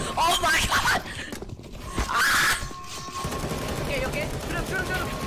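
Bursts of automatic gunfire in the game CS:GO, loud and chaotic, with frantic shouting over the shots.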